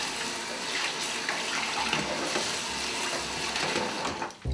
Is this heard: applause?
no